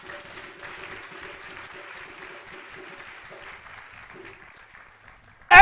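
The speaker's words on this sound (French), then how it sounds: "On va applaudir Dieu pour ça." A church congregation in Côte d'Ivoire claps together in sustained, even applause during a service, a moderately loud wash of hand claps that gradually fades, followed by a sudden loud burst at the end.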